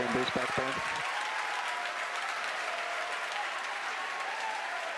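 A crowd cheers and applauds steadily as a SpaceX Falcon Heavy rocket carrying a Saudi satellite drops its side boosters, a sustained wash of clapping and roaring after a brief opening voice.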